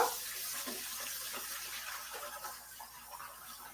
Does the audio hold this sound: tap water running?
yes